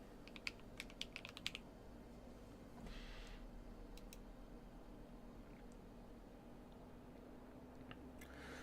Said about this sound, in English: So yeah, this is their aluminum keyboard.